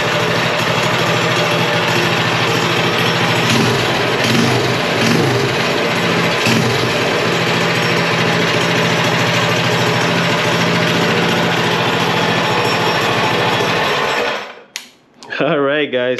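A Predator Ghost 212 mini bike engine runs steadily and loudly with a constant buzzing drone, then briefly drops off near the end before picking back up; no voices are heard over it.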